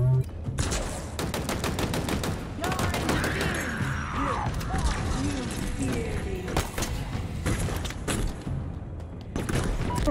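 Rapid bursts of Halo shotgun and weapon fire crack in dense volleys over ongoing game effects and a brief mechanical whoosh, loud and near, with a voice talking faintly in places.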